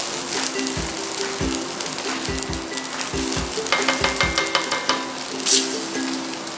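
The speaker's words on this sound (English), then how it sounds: "just hear the sizzle of the rice because of the Dutch oven" Loud, close sizzling of biryani rice frying in a hot cast iron Dutch oven, with bursts of crackle and occasional scraping stirs against the metal.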